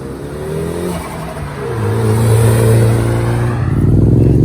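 A Rocket Bunny widebody Nissan S13 engine revs up loud and close, its rising tone climbing and holding through several gear-like steps before climbing again, with no voices.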